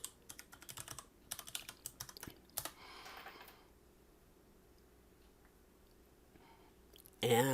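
Keys clatter on a computer keyboard as a password is typed, quick bursts of close clicks followed by a held key and a pause in a quiet room, ending with a short loud thump.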